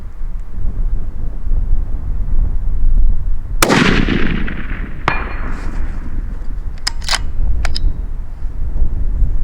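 A 6.5 PRC rifle shot on a steel target range: one loud, sharp report with a long rolling echo, then a fainter metallic clang as the steel plate is struck, followed by a few small ticks, all over steady wind noise.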